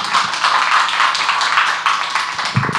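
Seminar audience gives a round of applause after a lecture, dense steady clapping of many hands at moderate distance, sustained for a few seconds with a thump near the end.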